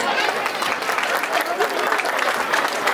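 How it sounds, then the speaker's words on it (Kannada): An audience at a birthday celebration and mass wedding function claps loudly and continuously, a dense, even burst of applause with a crowd murmuring underneath. "ಜೋರಾದ ಚಪ್ಪಾಳೆ ತಟ್ಟಬೇಕು."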